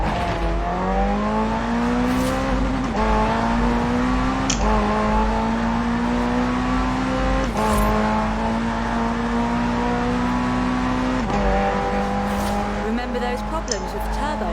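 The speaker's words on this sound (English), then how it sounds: "The car's blistering performance is delivered by a twin-turbo V8, supplemented by a McLaren ECU electric motor and instant power assist system" A McLaren hybrid supercar with a twin-turbo V8 and electric motor assist in Forza Horizon 4 drones steadily at high revs, its engine pitch rising and dropping through several gear changes beneath continuous narration.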